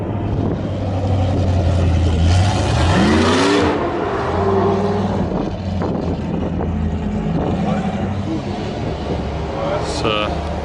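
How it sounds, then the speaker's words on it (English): A trophy truck engine revs up and climbs in pitch as it passes at the Spa circuit near Eau Rouge, loud over a dense motorsport din, then fades with other engines and a voice in the background. "It's a trophy truck."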